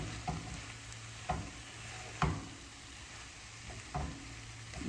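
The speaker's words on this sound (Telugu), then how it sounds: "బీట్రూట్ ముక్కలు కూడా కొంచెం నూనెలో 1 నిమిషం వేగాలండి." Beetroot pieces stir-fry in hot oil in a pan, a steady soft sizzle broken by about five sharp scrapes of the spoon at uneven intervals, close and fairly quiet with no voices.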